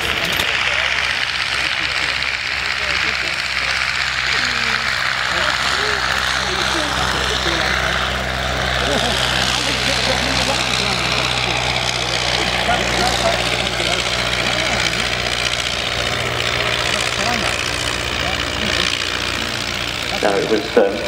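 Vintage aircraft with rotary engines at an Edwardian evening airshow, a continuous droning engine roar with propeller hum, steady and fairly loud throughout, with no clear gaps.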